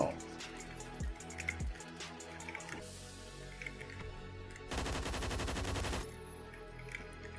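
AUG A1 light machine gun firing in Phantom Forces, a few separate shots followed by a sustained rapid automatic burst, fairly quiet and mixed with other game sounds.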